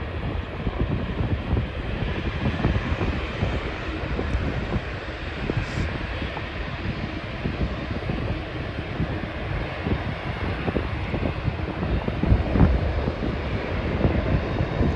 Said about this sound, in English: There it goes for takeoff.